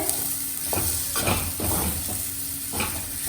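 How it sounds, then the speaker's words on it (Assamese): Sabudana khichri stirred and fried in a pan over high flame, a steady sizzle broken by several scraping stirs of a spoon against the pan, close and continuous with no talking. "এইখিনি মানে ফটাফট ভাজিব লাগিব লৰাব লাগিব এইখিনি কাৰণ এইখিনি হাই ফ্লেমতে আছে"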